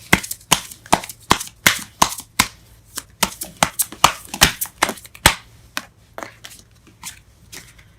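Tarot cards being shuffled in a rapid run of crisp riffling snaps and flicks, dense for the first five seconds and then thinning into sparser taps, with no talking.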